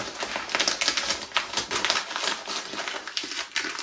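Packing paper being crumpled and handled for wrapping items to ship, a dense run of crisp, close crinkling and rustling bursts with no talk.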